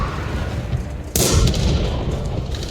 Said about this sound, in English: That's the artillery.